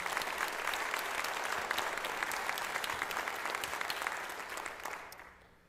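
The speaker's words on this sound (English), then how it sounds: "Could we give a round of applause for our veterans?" Convocation audience at Folsom Lake College clapping for veterans, steady dense applause from a large crowd that holds for several seconds and then fades out.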